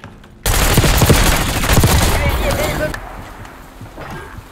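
Rapid automatic gunfire rattles in a first-person shooter video game, a loud dense burst lasting a few seconds before fading into quieter game sounds, with a voice talking over it.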